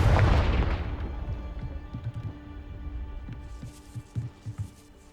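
A Confringo fire spell in Hogwarts Legacy bursts into a loud booming explosion, followed by a rumbling decay and scattered smaller thuds and crackles as debris settles.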